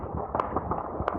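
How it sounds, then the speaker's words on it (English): Gunfire and explosions during a night of fighting in Khartoum, heard as faint, distant cracks and a couple of sharp pops over a low, steady rumble. "the seemingly never-ending crackle of gunfire, punctuated only by the rumble of explosions"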